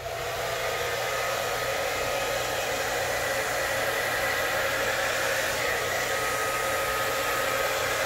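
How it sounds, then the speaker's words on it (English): A hair dryer blows steadily and loudly up close over acrylic pour paint, a continuous whooshing roar for the whole stretch with no voices. "I'll have to use a hairdryer for blowing the rest of it"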